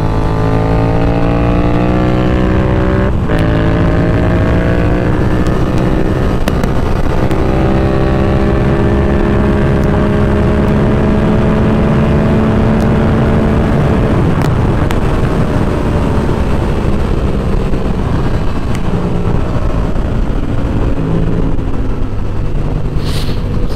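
A Suzuki GSXR750 motorcycle engine on a race track, loud and continuous, its pitch rising and falling through gear changes, with steady close wind and engine roar throughout.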